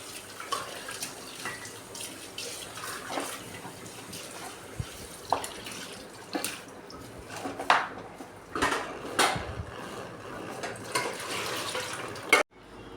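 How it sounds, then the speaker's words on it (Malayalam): A spoon clinks and scrapes intermittently in a bowl as flattened rice, banana, jaggery and cardamom powder are mixed, with quiet, scattered knocks and no talking. "നല്ല രീതിയിൽ ഒന്ന് മിക്സ് ചെയ്ത് കൊടുക്കാം."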